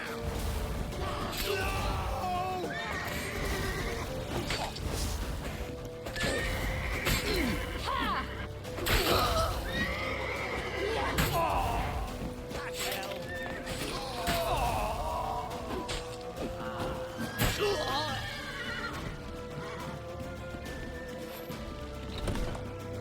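Galloping hooves clatter alongside crashes, thuds and shouting voices in The Witcher 3: Wild Hunt, with a horse's whinny and a busy, action-filled mix of effects.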